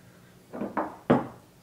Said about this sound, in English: let's give it a little pour